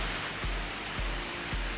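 The Las Mellizas waterfalls, 40 and 50 metres tall with a reduced November flow, send a steady broadband roar of falling water, continuous and fairly loud with a few low thumps.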